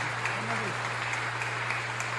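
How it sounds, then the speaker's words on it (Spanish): A congregation at a Mass applauds the Senate, with a steady wash of clapping from a crowd heard over a constant low hum, fairly distant and even throughout. "Vamos a darle un aplauso a la Cámara Alta, al Senado."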